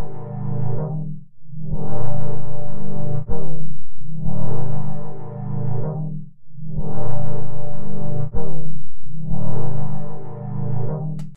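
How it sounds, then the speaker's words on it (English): Synth track in Logic 9 with a filter cutoff sweep that opens and closes in slow regular swells, about five loud waves rising and falling, with no voices. "and then we've got our copied and converted cutoff automation, which now sounds like this."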